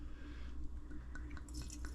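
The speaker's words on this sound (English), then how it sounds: "We're just gonna pour that in." Homemade vanilla flavoring, still clear, poured through a funnel into a bottle, giving a soft, close trickle and a few small drips over a steady low background hum, with no talking.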